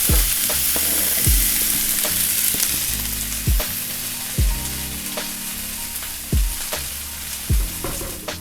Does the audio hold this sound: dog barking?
no